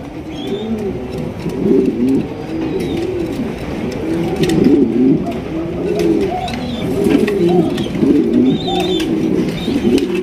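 Spangled Stature pigeons coo steadily in overlapping, throaty rolling calls, close and fairly loud, with no talking.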